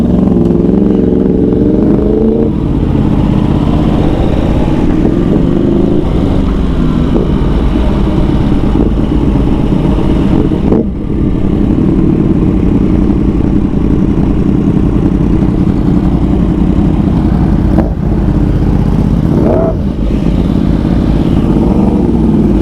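A Yamaha R1 motorcycle riding along, with a loud continuous engine drone that rises and falls with throttle changes, mixed with road and wind rumble throughout.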